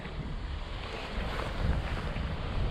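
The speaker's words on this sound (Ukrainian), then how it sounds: "Поїхав наш кораблик." A remote-controlled bait boat motoring out across water, carrying bait out from the shore for white amur fishing: a steady low engine drone with wind and water noise, constant and unbroken, with no talk.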